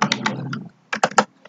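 Quick keystrokes on a computer keyboard come in two short bursts of crisp, close clicks separated by a brief pause.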